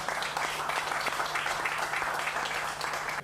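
Festival audience applause for a young band that won a talent contest, a steady, dense patter of many hands clapping, moderately loud and even throughout with no talk over it.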